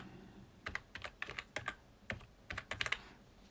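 Typing on a computer keyboard, quick clusters of sharp close key clicks in short bursts with brief pauses between them, alone in a quiet room.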